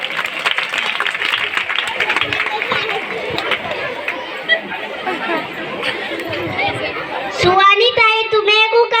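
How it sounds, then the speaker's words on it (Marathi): A crowd chatters and laughs while scattered clapping rises and falls through the babble of many voices, followed near the end by a clear voice speaking. "वाजवा, टाळ्या वाजवा"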